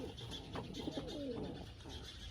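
Domestic pigeons in a breeding loft, with pairs laying fresh eggs, give a low cooing phrase that rises and falls for a few seconds, close by, against a steady background hum, no talking.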